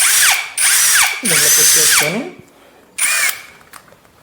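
A cordless drill in hammer mode whirs in short bursts, spinning up and winding down several times close by as a bit is swapped, with a brief spoken word between bursts.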